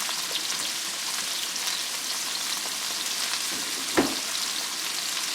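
Zucchini noodles frying in a hot pan, a dense, even sizzle like light rain throughout, with one brief clatter partway through.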